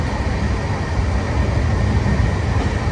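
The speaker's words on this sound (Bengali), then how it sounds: "এই ট্রেনটা খুব সুন্দর" A fast passenger train bound for Delhi rumbles along as heard from inside a carriage, a steady low roar with faint rattling and no voices.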